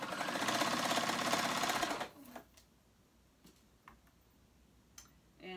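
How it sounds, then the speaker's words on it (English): A sewing machine stitches a flounce onto fabric, a rapid loud mechanical whir for about two seconds, then stops, leaving faint clicks and handling taps. "So we're sewing that on, making sure you're catching both fabrics"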